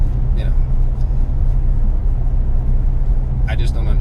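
A steady, low engine drone from a 2016 Ford Focus ST fills the car's interior, with someone briefly talking over it now and then.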